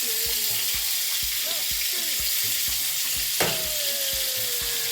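Akara bean cakes sizzle steadily in hot frying oil, a dense continuous crackle with soft clinks of a utensil turning them over at regular intervals.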